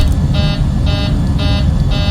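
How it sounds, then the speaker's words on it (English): A cockpit alarm sounds in an airliner flight simulator. A loud, repeating high beep comes in four evenly spaced pulses over a constant low engine and cabin rumble. "Why is there an alarm kicking off?"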